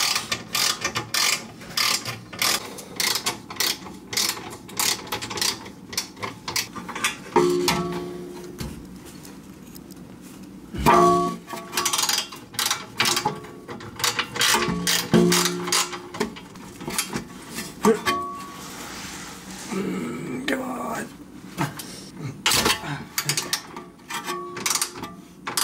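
Ratchet removing 14mm bolts from the power steering rack shield of a Subaru WRX, with long runs of fast, close pawl clicking broken by short pauses and occasional metallic clinks.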